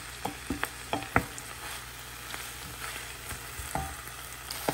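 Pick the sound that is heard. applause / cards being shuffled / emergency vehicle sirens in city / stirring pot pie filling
stirring pot pie filling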